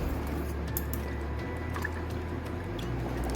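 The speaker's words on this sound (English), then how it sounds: "pour that whole into the lukewarm milk" A curd and milk mixture is poured into lukewarm milk, giving a steady, continuous liquid pour with faint drips, heard close and alone.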